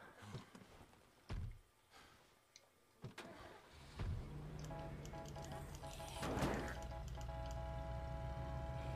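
In the video game State of Decay, a car door thumps a few times, then the engine cranks and starts, settling into a steady idle hum that runs to the end.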